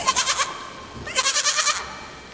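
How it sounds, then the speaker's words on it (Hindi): A goat bleats twice, loud and close, each call a quavering, wavering cry with a short gap between them, and no voices over it. "अरे, ये बकरी की आवाज कहां से आ रही है?"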